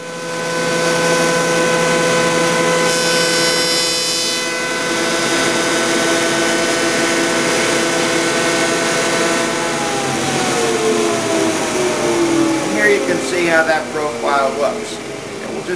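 A table saw cuts half-inch shaped banding for desk drawers, a loud steady whine that holds for several seconds and then winds down, with a voice talking over it.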